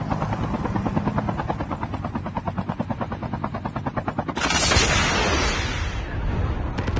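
Airdrop aircraft in a battle royale video game, a loud, steady rotor-like drone with rapid pulsing that swells louder near the end as it passes overhead, with no talking.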